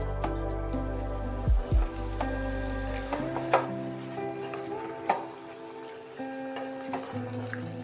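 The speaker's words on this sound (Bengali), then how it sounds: "এই পর্যায়ে এসে আমি দিয়ে দিচ্ছি অল্প একটু জল।" Water poured into a hot pan of sizzling spring onion stalks, a steady fry hiss with a couple of sharp splashy bursts, then a quieter simmering crackle with light stirring clicks.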